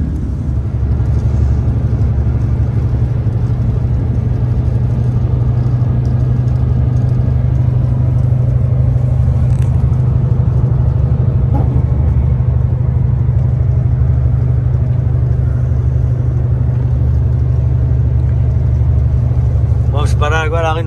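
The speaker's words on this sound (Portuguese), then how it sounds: "Caminhão velho, andou aos saltos." An old truck drives along the road with a deep, steady engine rumble and rattling from the jolting ride, loud and close from inside the cab, with people talking over it.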